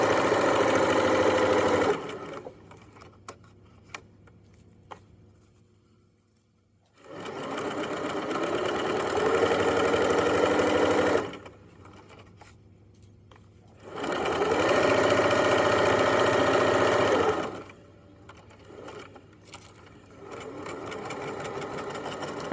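Sewing machine stitching the inseam of pajama pants, a steady mechanical whirr in three sustained runs separated by quiet pauses, close by, with soft speech in the gaps.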